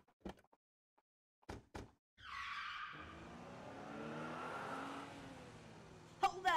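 A car starts up and pulls away with a revving engine and squealing tires, loud and close after a few sharp knocks and a door slam, the engine note rising and holding steady as it drives off.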